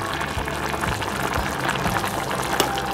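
Olan curry bubbling gently in a pot on low heat, a soft steady simmer with small popping bubbles and faint clinks, close and continuous.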